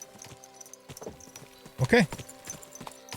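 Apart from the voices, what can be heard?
horse hooves clip-clop, video game Kingdom Come: Deliverance 2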